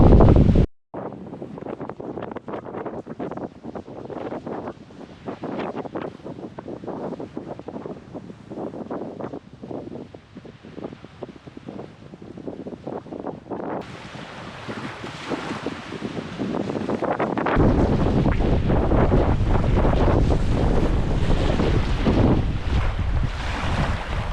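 Strong wind roars and buffets the microphone continuously, growing louder and fuller in the second half, with a watery, surf-like rush underneath.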